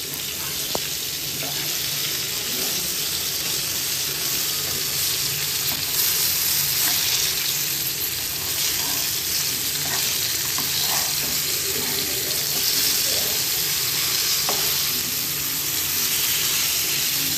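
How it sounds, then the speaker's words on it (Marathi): Malvani fish coated in rice flour frying in a pan, giving a steady, dense sizzle that runs throughout with a few faint clinks of turning, no talking. "आता एकदा पलटी मारून घेऊया, जेणेकरून आपल्याला समजलं आपली मच्छी कशी फ्राय झाली"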